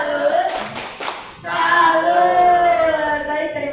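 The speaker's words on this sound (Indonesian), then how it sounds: "kita boleh kasih tepuk salut dulu buat Putri" A group at a teachers' presentation session claps together in a short burst of a few claps for a presenter, and then voices rise in a chanted, sing-song salute.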